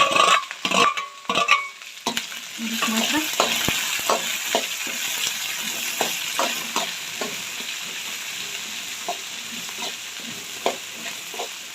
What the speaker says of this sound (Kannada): ಈ ಹಂತದಲ್ಲಿ ನೀವು ಸ್ವಲ್ಪ ಕ್ಯಾಪ್ಸಿಕಮ್ನ ನೀವು ಕಟ್ ಮಾಡಿ ಹಾಕೋಬೇಕಾಗುತ್ತೆ ಈ ರೀತಿ